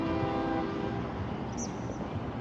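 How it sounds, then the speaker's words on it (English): A train passing above a riverfront in Montgomery, Alabama, heard as a steady broad rumble with a sustained horn-like drone, fairly distant and continuous, with no talking. "There's a train going by up there."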